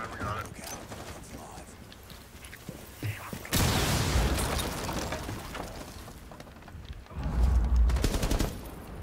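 Gunfire in a Rainbow Six Siege match: scattered shots and bursts with loud blasts near the middle and end, mixed with footsteps and background game noise, while players talk.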